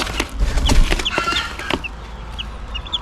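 Young Tornado Hatch gamefowl chicks make soft clucks and peeps close by over a farmyard background, with several small calls scattered through the moment.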